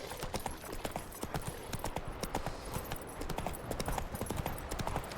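Horse hooves clip-clop in a quick, steady rhythm in The Witcher 3, close by and continuous under a soft wash of background noise.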